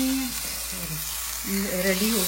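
Beef patties sizzle in melted butter in a hot pan, a steady close crackle that runs throughout, with a faint voice briefly murmuring over it near the end.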